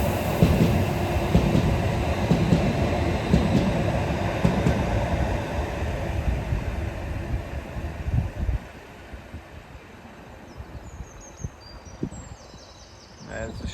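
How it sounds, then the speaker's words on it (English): A Tyne Metro train running on the Northumberland line, a steady rumble of wheels on rails that fades partway through, leaving quieter trackside ambience with faint clicks. "we have a Tyne Metro service off to St James's via the coast, formed as 555013."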